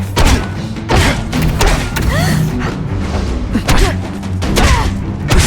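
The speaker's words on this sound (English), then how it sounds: "Ionic webbing's my best shot here." Ionic webbing shots fired in The Amazing Spider-Man 2 video game, dense booming thuds and impacts layered over continuous loud game action, with whooshing sweeps and no clear pauses.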